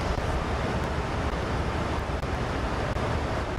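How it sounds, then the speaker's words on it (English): Wind rushes through the cockpit of a Boeing 737 MAX 8 in a flight simulator game, a loud, steady broadband roar with a few faint clicks, no talking. "So windy in here"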